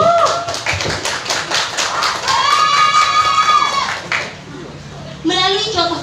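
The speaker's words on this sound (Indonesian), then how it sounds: "Mari kita beri tepuk tangan yang meriah untuk kabupaten kita yang tercinta ini" Audience applause at a Pancasila Day speech contest, a burst of rapid clapping and a few cheers that swell and then fade, with voices heard briefly at the end.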